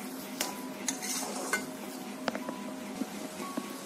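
A spoon stirs a mango dish in a pot with soft scraping and scattered light clinks against the metal, over a faint sizzle, close and steady.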